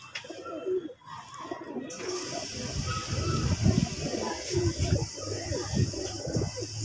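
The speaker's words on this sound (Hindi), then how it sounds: "आतशी घंटेदार सफ़ेद दुमका माशाल्लाह खूबसूरत कबूतर" Fancy white-tailed pigeons on a rooftop coo in low, soft, repeated murmurs that run steadily throughout, with a hissing background and some nearby bird chatter.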